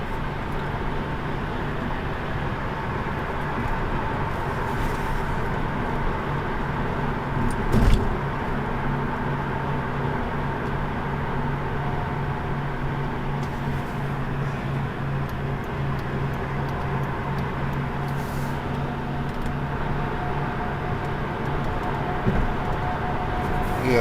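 Interior of a 2011 Hyundai Elantra Limited cruising on I-84 West in New York's Hudson Valley: a steady road and engine drone with tyre hiss, one brief thump partway through, no talking.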